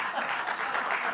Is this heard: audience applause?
yes